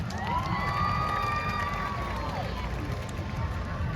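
Demolition derby crowd at a county fair in Perth, Ontario cheering and shouting for a car, a steady roar of voices throughout with a loud announcer talking over the top.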